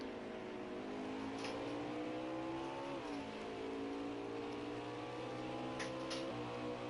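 Race car engine in an Xfinity Series sim race at Road America, a steady, loud drone holding high revs, pitch dipping around a downshift then climbing again, with no talk over it.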